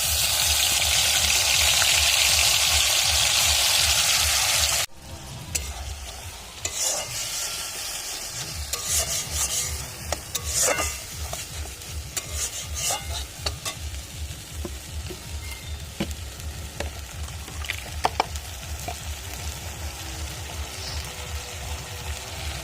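A paste of green chili, ginger, tomato and garlic hits hot oil with black cumin tempering, a loud burst of sizzling hiss, then settles into steady frying with rhythmic stirring and scraping, close by.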